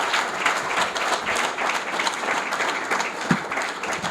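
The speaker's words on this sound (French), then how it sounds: "Je voudrais commencer mon allocution en vous demandant d'applaudir les personnes que vous avez" Steady applause from a seated audience honouring the staff at an anniversary ceremony, dense and continuous for about four seconds with one sharper clap near the end and no talk over it.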